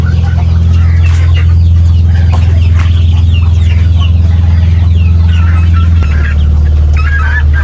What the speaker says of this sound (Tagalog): Marami ka na uling alagang manok at baby.